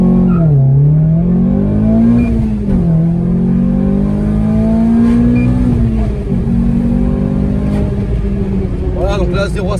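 A Renault Clio 3 RS pulls away from a standstill, its engine revving loudly and climbing through gears from inside the car, a strong rising drone with a talking voice over it.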